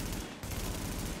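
Rapid gunfire from The Division video game, a dense, continuous burst of shots with a brief dip midway, loud and close with no talking.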